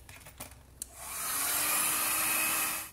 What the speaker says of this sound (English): Right, back with the heat gun,